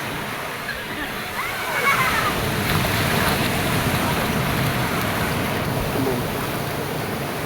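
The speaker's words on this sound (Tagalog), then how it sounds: "At malakas yung alon mga mga guys." Strong sea waves wash and churn steadily at a crowded beach with many children, a loud continuous surf roar filling the scene with splashes throughout.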